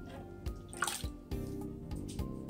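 Coconut cream milk is poured into a cassava and brown sugar mixture for suman, giving close, soft liquid splashes and drips in a short uneven run.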